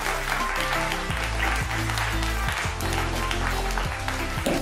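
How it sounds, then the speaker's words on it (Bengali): A crowd at a Holi special event at a Senco Dunlop store claps for a team, a dense sustained applause heard under music that plays loudly throughout. "আর হাততালি হয়ে যাক আমাদের এই টিমের জন্য।"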